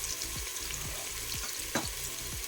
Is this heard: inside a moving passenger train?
no